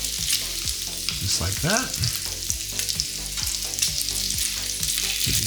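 Bacon and sausages sizzle on a Ninja Sizzle griddle with a loud, continuous crackle and popping spatters, while a voice speaks briefly in between.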